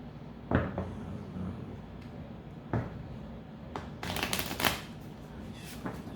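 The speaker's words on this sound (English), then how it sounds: "Shuffle a couple more." A deck of cards is shuffled several times indoors, soft riffling bursts and taps at moderate closeness, with a quick run of shuffles near the end and no voices.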